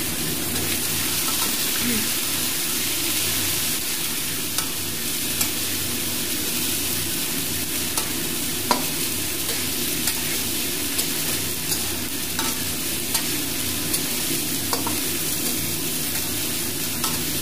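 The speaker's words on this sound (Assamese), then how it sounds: "ভালদৰে ভাজি লওঁ এইখিনি।" Chicken and potatoes fry in a pan with onions, giving a steady close sizzling hiss with scattered sharp crackles and pops throughout. No voices are heard.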